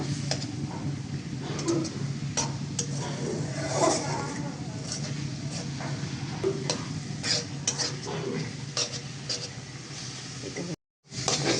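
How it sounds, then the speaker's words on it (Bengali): A spoon scrapes and taps against a pan while thick tomato chutney is stirred, soft sizzling beneath repeated clicking strokes, with someone talking over it and a short silent break near the end. "তো আরেকটু নেড়ে চেড়ে আমি নিপিস করে নিব।"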